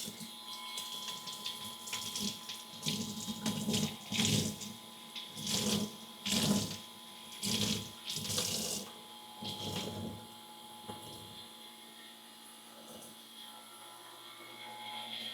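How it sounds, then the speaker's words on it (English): Water runs from a tap to wet a towel in a woodworking shop during sanding of an end grain cutting board, a faint steady flow broken by rhythmic splashing and wringing bursts that fade toward the end. "So let's get a towel wet."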